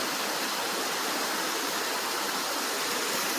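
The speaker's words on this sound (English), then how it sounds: "in the center is where that water is running down" Creek water runs down under a huge split rock in a gorge at Big South Fork, giving a steady, broadband rushing wash that holds even and close throughout, with no voices.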